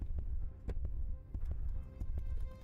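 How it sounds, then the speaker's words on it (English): Heartbeat sound effect in a spaceship game played alone: a low, muffled, thudding pulse repeating steadily over a faint hum, with soft clicks on top. "And that heartbeat needs to be quieter."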